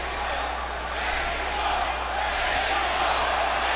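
Boxing arena crowd during a Canelo Alvarez fight, a dense continuous roar of chanting and shouting voices that holds steady and loud throughout with no clear breaks.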